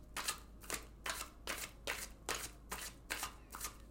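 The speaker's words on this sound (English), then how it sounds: "let's go ahead and draw our cards here" Tarot cards being shuffled by hand, a steady series of about ten crisp riffling bursts in regular rhythm, close and fairly quiet, with no talking.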